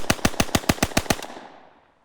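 A World War II weapon fires a rapid burst of about nine sharp, loud shots at an even rhythm, followed by a short fading echo, recorded for Call of Duty.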